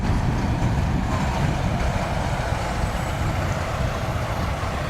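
A truck rolls past in a small-town parade, a loud, close, broadband engine rumble that stays heavy for several seconds and eases slightly toward the end.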